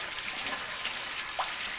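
Hot tap water runs steadily into a hot cast iron pan, a soft, even hiss of flow at moderate distance with no talking.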